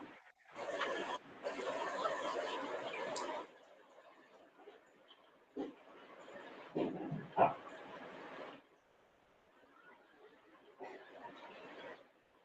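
Dog barking and yipping in short bursts, fairly near, with louder stretches separated by quieter gaps and some whimpering sounds.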